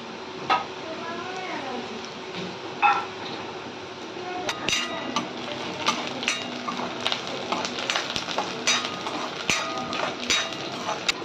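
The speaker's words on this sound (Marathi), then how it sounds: "अशा प्रकारे लाल होईपर्यंत भाजून घेऊया आपण." Ingredients for Marathi moong dal amti roast in a pan with repeated scraping and clinking of a utensil against metal, irregular and fairly close, with a voice talking in the background.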